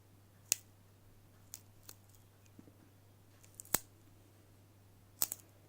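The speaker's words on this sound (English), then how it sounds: "you can hear the adhesive underneath separate from the plastic" PSP Go screen adhesive pulling away from the plastic gives sharp, sparse crackling snaps, three louder ones and a few faint ticks, close and quiet over a low steady hum.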